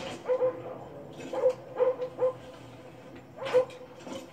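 Several dogs in an Xbox video game bark in short separate bursts, about six, moderately close, with no talk over them.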